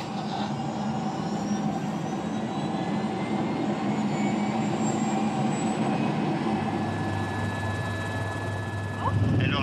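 A helicopter flying between a mountain valley and the coast drones steadily in the cabin, a loud continuous rotor and turbine roar with a low throb, while a voice speaks faintly underneath.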